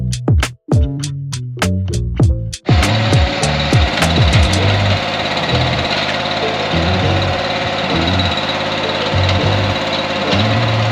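A small gas-engine mule machine maneuvering a tiny cabin on an off-grid Tennessee homestead, a loud steady engine drone with rattling knocks, after a few sharp wooden bangs at the start.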